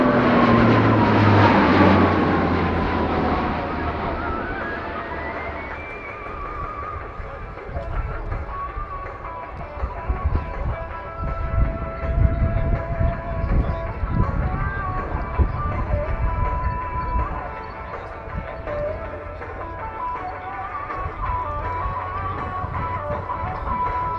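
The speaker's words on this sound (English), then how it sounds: "the C-27 is coming back to us with a Schneider turn at the max speed" A C-27 transport aircraft flies a Schneider turn at max speed and about 3 G at an air show, its engine roar loud and sustained with a whining pitch sweep, alongside a commentator's voice.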